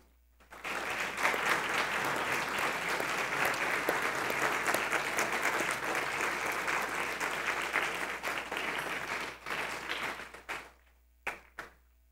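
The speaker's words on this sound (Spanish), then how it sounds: "Pónganse de pie y démosle un fuerte aplauso al Señor." A large church congregation stands and applauds steadily for about ten seconds, a dense, sustained clapping that fades out near the end, followed by a couple of stray claps.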